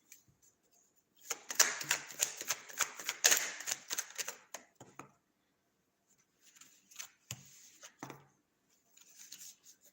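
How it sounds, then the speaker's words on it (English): Tarot cards are shuffled by hand in several short, crisp riffle bursts, close up, with quiet pauses between them. "Let me make sure I get a good little shuffle up in here."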